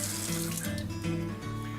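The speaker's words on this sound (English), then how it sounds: "I'm just going to rinse off the knives a little bit so they're not so slimy or slippery" A kitchen tap runs steadily into a sink while knives are rinsed, a close, continuous rushing of water with slight shifts in tone as the flow hits the blades.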